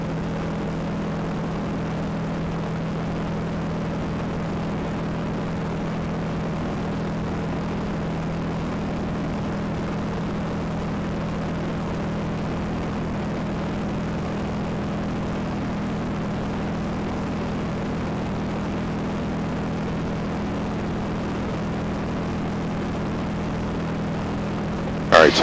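RV8 propeller aircraft cruising with prop at 2450, a steady droning engine hum heard from the cockpit, constant and even throughout with a voice briefly over it.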